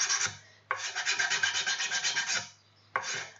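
A 3D-printed part is sanded by hand, making close, steady raspy rubbing strokes in a few bursts separated by short pauses, with no voices.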